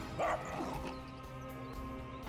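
A dog in the video game Divinity: Original Sin gives a short, mid-loud bark or yip over steady game background noise, as it is dying in combat.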